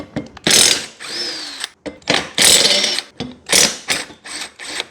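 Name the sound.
small impact driver removing lawn mower blades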